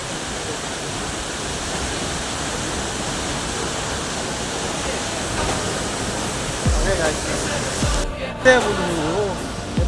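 Adirpally waterfall roars as a constant, broad rushing wash close by, with brief voices and movement breaking in near the end.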